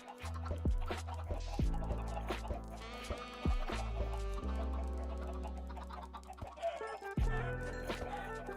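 Chickens cluck and squawk in modded Minecraft (All the Mods 9), a series of short bird calls scattered over steady background music, near and fairly clear.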